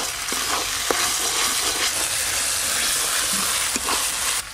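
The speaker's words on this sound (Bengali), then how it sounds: "টমেটোগুলো দিয়ে একটু ভালো করে ভাজা ভাজা করে নিয়েছি" Chopped tomatoes frying in a pan, a steady close sizzle with scattered pops and stirring clicks for a few seconds, no voices.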